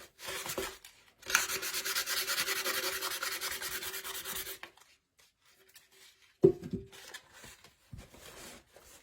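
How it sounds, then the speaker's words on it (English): A wet rag rubs a wet-sanded finish off a Dollar Tree farmhouse candle holder, making a steady close scrubbing rasp for about three seconds, bracketed by shorter rubbing bursts and a few soft handling knocks. "you could just take your wet rag and start rubbing"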